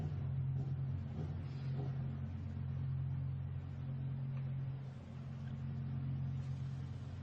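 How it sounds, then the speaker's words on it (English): Lamborghini Super Trofeo race cars sit idling on the grid at Barcelona, a steady low engine rumble with strong droning hum that holds continuously, occasional revs swelling slightly, with no voices. "the Lamborghini Urus pace car at the front of the grid to lead the field around on a formation lap"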